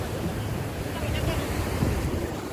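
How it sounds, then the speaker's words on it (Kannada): Sea waves wash and rush around a small boat at sea, a broad, steady roar blended with gusting wind against the microphone. "ನೋಡಿ ಗೆಳೆಯರೆ, ಅಲೆ ಬರ್ತಿದೆ"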